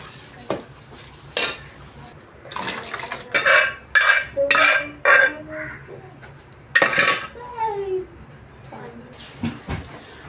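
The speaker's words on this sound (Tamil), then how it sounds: "இப்போ நம்ம இந்த மசாலாவை கொட்ட போகிறோம்" Masala being poured into a hot pan of oil and stirred, loud bursts of sizzling and metallic scraping against the pan in short uneven strokes, with a voice speaking between them.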